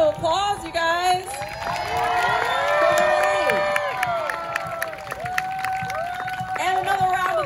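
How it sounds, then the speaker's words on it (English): A live audience at an outdoor AGT Summer Games event at the LA Coliseum cheers and applauds, crowd noise swelling with whoops and clapping, while voices and sung or shouted tones ring over it. "Another round of applause"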